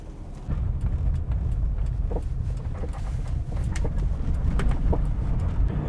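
A turbocharged Subaru Forester, set up for offroad use, pulls away with a steady engine rumble close by. Birds coo and call intermittently in the background.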